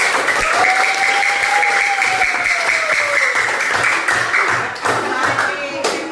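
A classroom of students applauds in a loud, steady burst of clapping that continues throughout, with a voice faintly heard under it.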